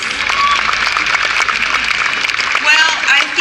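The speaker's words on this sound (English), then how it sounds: "Now let's give another round of applause for our judges" Audience applause for the judges at the Miss Universe 2015 preliminary competition, a steady wash of many hands clapping at a loud, even level for several seconds, with voices and cheers mixed in.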